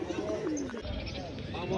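Pigeons coo at the 200-year-old Meradia pigeon market in Dhaka, with soft calls and chirps mixed with nearby crowd voices.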